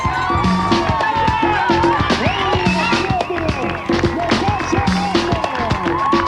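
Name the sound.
crowd cheering at Ironman triathlon transition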